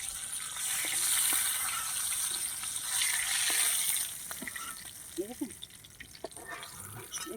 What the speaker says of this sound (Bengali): পটলগুলো ভালো করে লাল লাল করে ভেজে নিচ্ছি